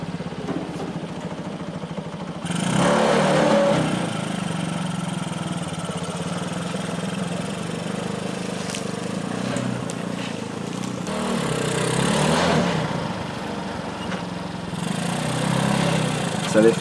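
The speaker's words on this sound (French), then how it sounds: "J'ai donc utilisé tracteur moto avec la benne." A ride-on mower tractor hauling a trailer runs steadily nearby, its mid-pitched engine droning continuously with a few swells in loudness, no talking over it.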